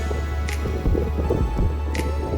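Steady hiss of rain across the whole stretch with a low rumble, a couple of brief bright taps, no voices.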